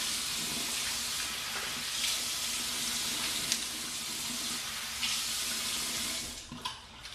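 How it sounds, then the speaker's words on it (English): Tap water runs steadily into a sink for rinsing during a Dreadnought Spartan safety razor shave, a constant close splashing hiss that stays even throughout and eases off briefly near the end. "First I'll rinse with hot water, and then I like to rinse with cold water."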